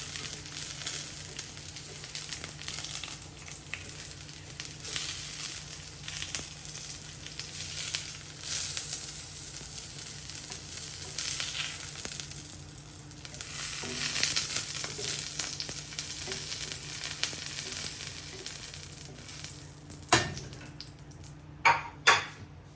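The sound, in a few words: onion sizzling on a grill with vegetables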